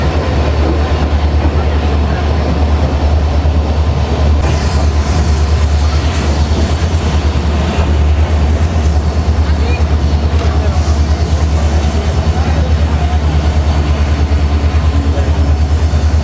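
A loud, steady rumble from the Silchar–Agartala Express, train 15664, at Dharmanagar station fills the clip from start to finish with continuous carriage clatter and a faint high whine, and voices murmur beneath it.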